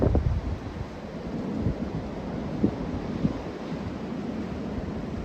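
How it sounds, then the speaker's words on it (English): Strong wind gusts buffet an off-grid barn under construction in the woods, a low, rushing roar with a few sharper thumps and rattles now and then, no voices. "it is way too windy to try to put any tin up right now"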